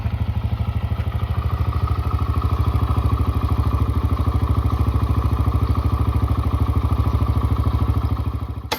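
A Yamaha TTR125 motorcycle engine runs steadily at idle nearby, a rapid, even single-cylinder putter with a mechanical clatter that holds for the whole stretch before easing slightly at the end.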